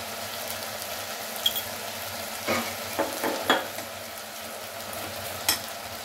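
Rice with turmeric and salt being stir-fried gently in a pan, with a soft steady sizzle and scattered scraping clicks of the spoon against the pan, moderately close and with no one talking.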